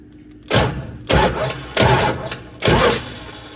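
A 1968 Dodge Coronet 500 engine turns over in four separate short cranks from a remote starter button, each a loud whirring burst with brief pauses between.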